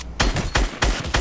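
Rapid gunfire in a battle royale video game, with four or five loud, close shots in quick succession over about a second, each ending in a short echoing tail.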